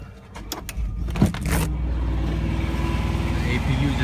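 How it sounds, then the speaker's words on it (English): A truck's diesel auxiliary power unit rumbles to life amid clicks and clunks, then settles into a steady low mechanical drone with a fan hum underneath. "the APU just kicked on"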